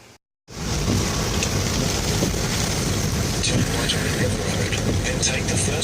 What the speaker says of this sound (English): Oh, it's a rainy day out today.